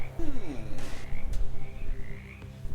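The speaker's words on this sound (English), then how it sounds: "A second frog approaches and belches up a soggy piece of paper." A frog croaking in the video game Shadows Over Loathing, a burst of low, gurgling croaks with warbling tones over a busy game soundscape, fairly close and continuous.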